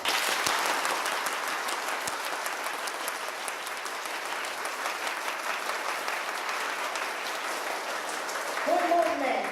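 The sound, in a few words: audience clapping for themselves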